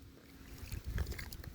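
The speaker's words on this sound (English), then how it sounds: "We must keep rowing." Quiet sloshing and splashing of oars working through water near a small boat, with soft wind in the background.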